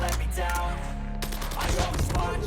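KN-44 assault rifle fire in Call of Duty: Mobile, loud continuous automatic bursts packed tightly together with a brief break partway through, with no talking.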